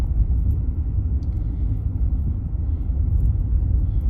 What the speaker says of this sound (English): Just driving through the dunes here.